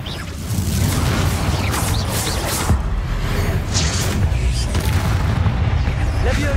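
Bombarda blasting spell explosions in the Hogwarts Legacy video game, a continuous loud rumble of booming blasts with a sharp burst near the middle, layered over combat effects.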